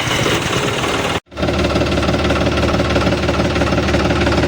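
A 2021 John Deere farm tractor engine starting up and then running at a steady idle, a loud, continuous droning rumble heard close by after a brief break in the sound.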